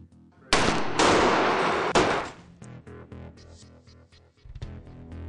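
A chemistry firework rocket ignites with a sudden loud roaring whoosh lasting about a second and a half, then breaks into a string of fading pops and crackles before a final sharp burst.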